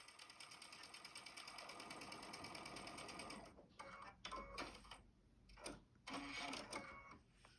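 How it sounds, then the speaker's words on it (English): A sewing machine stitches a quarter-inch quilt seam with steady, fast mechanical whirring for several seconds, then slows into shorter bursts separated by pauses, close and fairly loud. "put it right sides together right here, and sew it down that side at 1/4 inch"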